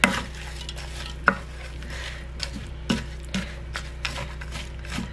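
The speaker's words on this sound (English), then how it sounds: "I'm just gonna give it a little bit of a stir" A spoon stirs chicken chili in a crock pot on a wood cook stove, giving scattered scrapes and clinks over a steady low simmering hum, close and moderately loud, with no voices.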